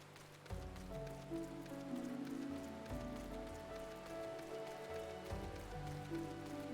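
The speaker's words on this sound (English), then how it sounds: "It rains a lot. I fucking love the rain." Rain falls in the Final Fantasy XIV game world, a soft steady patter of drops mixed with gentle game music and ambience, fairly quiet and with no voices.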